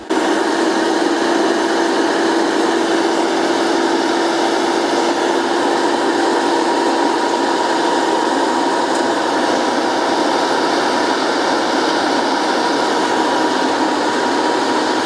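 Claas Lexion 530 4x4 Montana combine harvester engine running at a steady, loud drone with a high whine, constant and close for the whole stretch.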